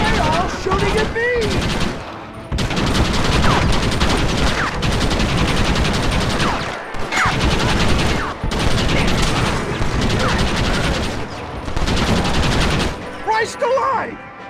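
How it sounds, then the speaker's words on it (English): Repeated bursts of Red Dead Redemption gunfire, loud and close, come in long clattering volleys broken by brief pauses, with shouting voices mixed in among the shots. "Why are they all shooting at me?"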